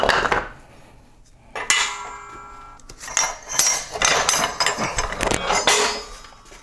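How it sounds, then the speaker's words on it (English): Metal clanks and scraping as an axle shaft is pulled from the rear axle housing of a third-generation Toyota 4Runner, with sharp clinks and rattles clustered in several bursts, close and fairly loud, no talking. "go ahead and take the axle out now"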